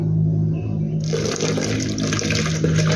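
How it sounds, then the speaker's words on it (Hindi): Water poured from a glass into a blender jar holding a thandai paste, a steady close splashing pour that starts after a low hum and continues to the end. "आप दोबारा से पानी डालेंगे इसके अंदर थोड़ा सा।"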